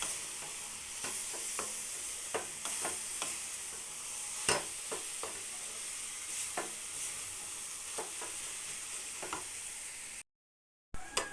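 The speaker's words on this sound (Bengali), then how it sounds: "এবার ভালো করে মিশিয়ে নেব।" Spices are stirred in a cooking pan with a steady sizzle of frying underneath, and scattered clicks and scrapes of a spoon against the pan come close up without talk before a short break.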